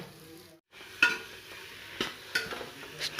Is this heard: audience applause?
no